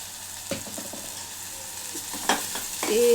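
Onions sizzle and fry in a pan while a dried-fish curry is cooked, a quiet hiss broken by a few clinks and scrapes of a spoon stirring, with a slightly louder stir near the end.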